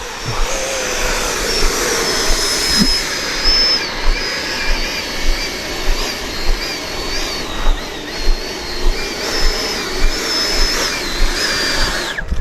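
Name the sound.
Freewing Vulcan model jet taxiing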